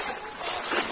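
Water sloshing and splashing across a flat roof that has just been waterproofed, being stirred vigorously during a leak test; a steady broad wash of close splashing with no pauses.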